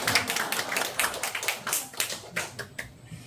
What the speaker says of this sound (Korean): 박수 소리가 이게 많이 안 나오네요.